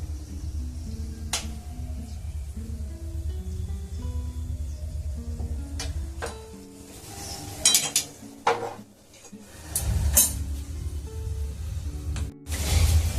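Kalo jam sweets fry in oil in a pan and are turned with a metal utensil: a low steady sizzle with scattered scrapes, taps and clinks against the pan, growing busier toward the end.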